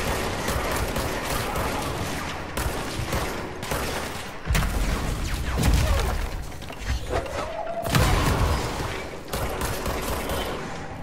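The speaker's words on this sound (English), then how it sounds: "I can hear the gunfire" Rapid bursts of automatic gunfire in the video game Control crackle and thump in clusters, with brief pauses between volleys and a dense, echoing background of shots.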